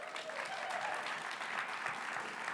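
An awards-ceremony crowd gives a brisk round of applause for a health company, a dense continuous clapping heard at a distance and fairly quiet.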